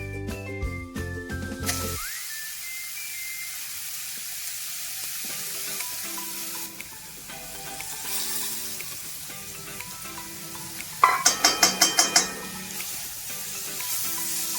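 Grated red pumpkin sautés in a pan, giving a steady sizzle with stirring scrapes and a brief run of metallic clinks near the end. No one talks.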